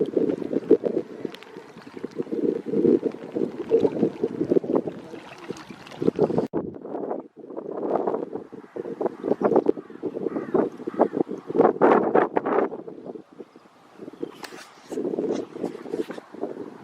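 Wind gusts buffet the microphone beside a lake during carp fishing, giving rough, uneven low rumbles that surge and drop with short lulls throughout.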